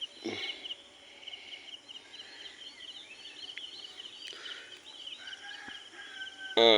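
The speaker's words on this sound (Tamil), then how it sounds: "அஞ்சு மணி ஆயிடுச்சு எல்லாம் குருவிகளாக சத்தம் போட ஆரம்பிச்சிட்டாங்க" Scattered bird chirps and calls in the open air by a pond at 5 a.m. dawn, over a soft insect hum, sparse and mostly distant, ending with a louder call up close.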